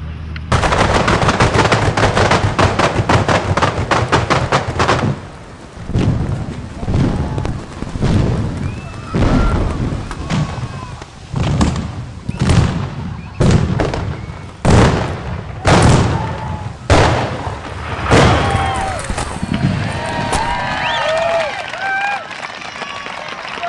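Paint cannons firing in rapid, loud bursts during a large outdoor shoot for a Sony Bravia television advert, a long barrage of sharp booms and crackles with brief lulls and scattered shouts in the mix.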